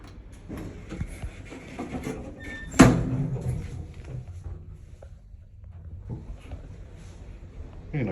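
Glass doors on a Schindler D-Series hydraulic lift in a multi-storey car park slide with a sharp clunk partway through, followed by a softer rumble and faint mechanical rustling of the door gear.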